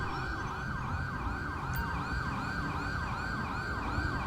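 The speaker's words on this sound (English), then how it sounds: "Here comes an ambulance." A wailing ambulance siren from the LSPDFR police mod for GTA V, sweeping up and down in a steady repeating cycle throughout, loud and close over a low rumble of traffic, with no talk.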